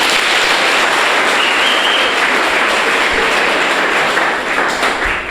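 A room of secondary school students claps for themselves after exam commendation, a sustained, even wash of hand-clapping with no speech over it.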